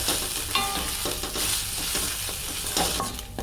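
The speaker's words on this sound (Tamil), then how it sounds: "இதை ஃபஸ்ட்டு நல்லா ரோஸ்ட் பண்ணணும்" Grated coconut sizzles and scrapes in a hot pan, with repeated stirring strokes of a spoon close by.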